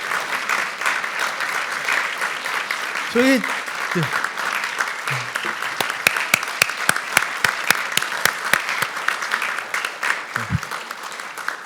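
Audience applause at an award ceremony, a sustained wash of clapping through the whole stretch with a few sharp individual claps standing out toward the end, while someone speaks over it.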